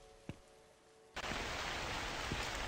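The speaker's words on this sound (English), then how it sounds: "the rain starts outside" Steady rain abruptly starts outside in a slow-burn psychological horror video game, a loud hiss of downpour cutting in after a quiet stretch with a faint thud earlier, no voices.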